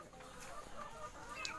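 Chickens clucking softly during R2B vaccine injections at a poultry setting, a brief, faint stretch of low fowl calls.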